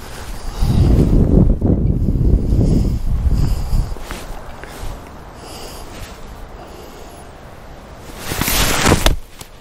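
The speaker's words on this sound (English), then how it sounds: "Oh, look at the wind." Wind gusts across the golf course at Rancho Solano, roaring and buffeting loudly against the microphone for several seconds, easing off, then surging again near the end.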